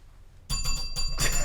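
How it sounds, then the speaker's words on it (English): A handheld boundary bell on a talk show set rings in a quick series of bright metallic dings, close and clear, with no talking over it. "this is the boundary bell"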